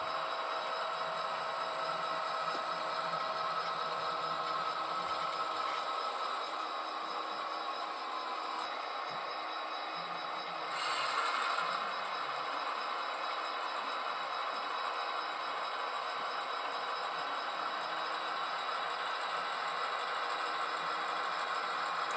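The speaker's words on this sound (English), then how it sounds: "I do like the sound of that engine." A model railroad train engine runs with a steady, continuous hum and light mechanical rattle, moderately close and even in level throughout, with no talking.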